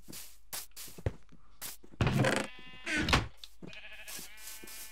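Sheep bleat repeatedly in Minecraft, two loud bleats standing out among soft blocky footsteps and game clicks, close and clear with no talking.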